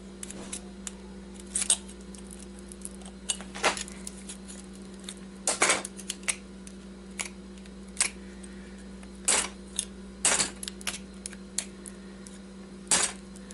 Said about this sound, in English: Just take them out with a little knife.